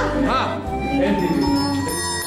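Bells ring in a Greek folk-style song, chiming along with singing voices and instruments in a lively, continuous passage.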